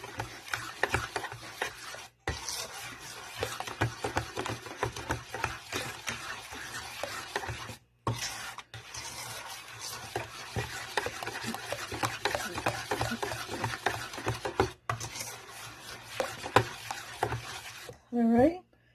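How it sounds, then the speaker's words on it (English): A spoon or spatula stirs vanilla and lemon extract into lemon loaf batter, giving a close, continuous wet scraping and swishing with steady rhythmic strokes and a few short pauses. "Mix those in."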